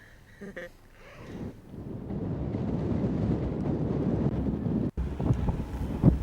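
Wind rises from near quiet into a loud, rumbling gust that buffets the microphone and holds strong, with a brief dropout near the end.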